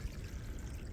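Water from a natural spring on the Appalachian Trail trickles and pours steadily, a close, soft, continuous splashing with no voices.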